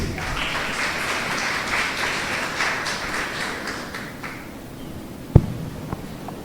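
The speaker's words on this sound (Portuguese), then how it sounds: "Recebo com aplausos Juliana Veloso." Applause from the audience at a public hearing on a city master plan, a moderate wash of clapping that fades out after about four seconds, followed by quiet room tone and a single sharp knock.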